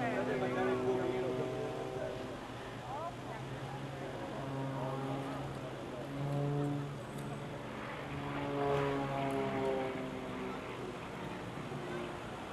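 Aerobatic propeller airplane performing over a lake at an air show, its engine droning with rising and falling pitch as it passes. An announcer talks over it.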